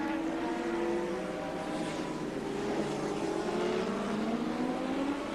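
A big twin-cylinder racing motorcycle with a four-speed gearbox at the 1984 Gracefield street race, a steady rasping engine drone that rises in pitch as it passes, heard from a distance and fairly faint.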